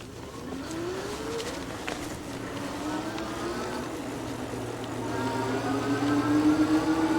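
Eskute Netuno electric bike hub motor running on throttle alone, a rising whine that climbs steadily in pitch as the bike speeds up, over constant wind and road rumble.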